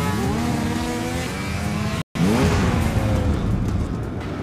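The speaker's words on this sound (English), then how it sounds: "High-powered snow machines." High-powered snowmobile engines rev hard at a rowdy Alaska spring-break ski race, loud rising and falling whines that run continuously apart from a brief cut near the middle.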